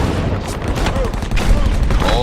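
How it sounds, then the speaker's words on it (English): Mortar and rocket fire pounding a hillside position during a Vietnam War battle, a dense, continuous barrage of blasts and gunfire with shouting voices mixed in throughout. "mortars and rocket fire start coming down on us"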